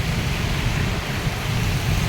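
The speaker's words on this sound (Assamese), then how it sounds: "এয়া কিমান বৰষুণ" Heavy rain pours down in Goa as a dense, unbroken roar that stays steady and fairly loud throughout, with no one speaking.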